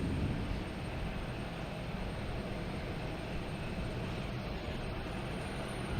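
An airliner on approach at Boston Logan Airport: a broad, steady engine roar fills the scene at moderate loudness, heard from a distance without voices, holding constant for several seconds.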